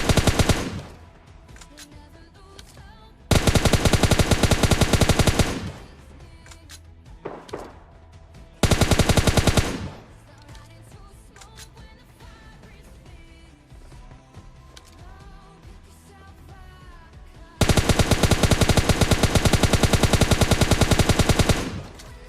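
Bursts of automatic gunfire in PUBG Mobile Lite, a solo-versus-squad match, several loud sustained volleys separated by quieter stretches of game sound.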